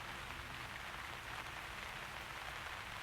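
Rain falls steadily in the rainy cleft of the video game Uru: Ages Beyond Myst, an even hiss of drops on surfaces, soft and constant, with no voices over it.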